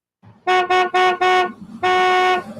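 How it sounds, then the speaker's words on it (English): A car horn honks four short times in quick succession, then gives one longer blast, loud and close. "You don't need to honk your horn as the light changes"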